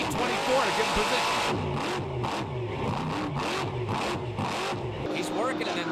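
Monster Jam monster truck engines roar and rev continuously in a stadium in Orlando, loud and sustained with rising and falling pitch, while an announcer talks over them throughout.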